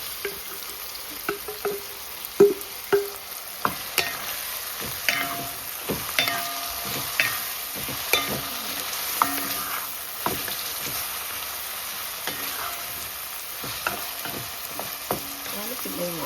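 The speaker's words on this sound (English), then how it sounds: "we're going to stir this a bit and then we're going to add the saltfish" Ackee and saltfish mixture frying in a pan for Jamaican ackee and saltfish, soft sizzling underneath as a spoon stirs and scrapes in irregular clicks and taps, close and fairly quiet.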